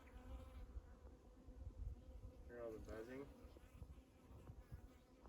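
Bees hum continuously near a hive around an abandoned house, a steady insect drone with a closer buzzing pass swelling in the middle, while people talk quietly underneath.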